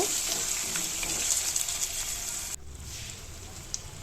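Green peas with ground mint paste frying in a pan, a dense close sizzle with faint stirring, easing to a softer fry partway through, no voices.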